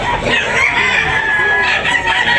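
A rooster crows at a Tabunok chicken market in Talisay, one long loud call close by with a noisy crowd murmuring underneath.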